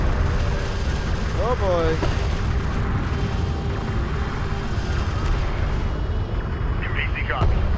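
Gunfire and explosions batter a turret during a desert battle in the strategy game Homeworld: Deserts of Kharak, a dense continuous roar of booms and rumbling blasts with a siren-like tone rising over it, while a voice speaks briefly.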